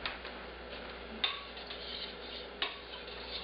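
Stainless steel utensil stirring yogurt in a bowl, with quiet scraping and two sharper metallic clinks against the side, faint and close.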